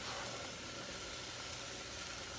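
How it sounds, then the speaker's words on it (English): Carrots sizzling in a pot as a carrot ginger coconut soup gets started, a steady soft broadband hiss that holds evenly the whole time with no voices over it. "You can hear it sizzling up there a little bit."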